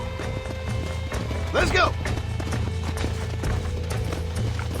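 Horse hooves clip-clopping at a steady gallop in the video game Red Dead Redemption, a continuous rhythmic patter under a short spoken line and a brief whinny-like cry.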